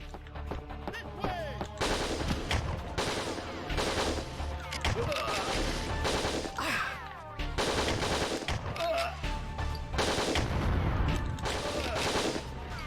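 SMG gunfire in the video game Winback: Covert Operations, with repeated rapid bursts of shots over the course of the clip among other in-game effects.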